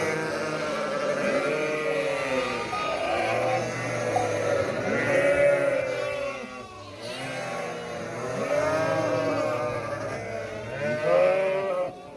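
A flock of sheep and lambs bleats nearby, with young and mothers calling back and forth. Many overlapping wavering bleats of different pitches rise and fall continuously, loud and close, with a low rumble underneath.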